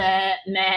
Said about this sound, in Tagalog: Napansin niyo yung kambing na kumakain ng apoy?